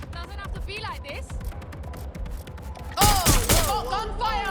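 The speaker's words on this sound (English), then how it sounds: "Oh, gunfire!" Shots ring out in a video game shootout in Watch Dogs, a steady patter of gunfire mixed with thuds that swells into a louder burst near the end, with voices talking over it.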